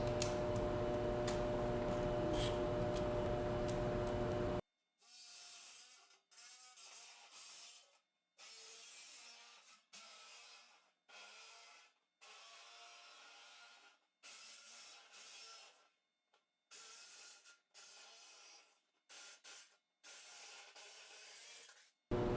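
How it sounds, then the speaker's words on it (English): A DEWALT reciprocating saw with a 14 TPI blade cuts the lid off a metal drum, giving harsh, rasping bursts in a steady series of strokes, with short pauses between cuts after a continuous opening stretch. "I'm going to be cutting the lids off of both these drums to make these into scrap barrels."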